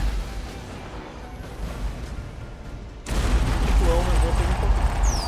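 Turret gunfire in a video game starts as a steady rumbling barrage. About three seconds in it swells into a louder, heavier roar of rapid shots and booms, with voices speaking faintly beneath.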